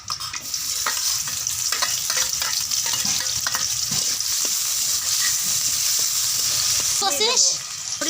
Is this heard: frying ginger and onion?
yes